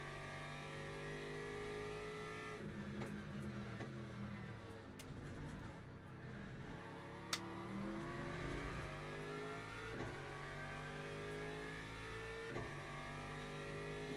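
An LMP prototype race car in the Le Mans Ultimate racing game, its engine revving through rising and falling gear sweeps, with faint clicks over a steady low background.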